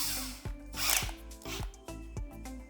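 A handheld power drill working on a card shuffler, with short repeated whirring bursts and clicks in an uneven rhythm, fairly close and moderately loud, without speech.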